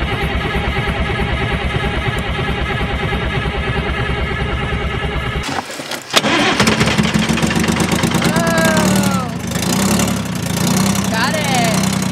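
A forestry skidder's engine runs at a steady idle before cutting out, then cranks and fires back up into a rough, loud idle with a brief whine on top, heard up close in the open.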